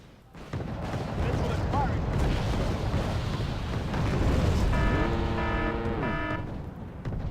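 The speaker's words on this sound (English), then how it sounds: "artillery coming in" Artillery fire in the video game Wargame Red Dragon rolls as a continuous heavy rumble of booms, with a tonal whine rising and falling near the end.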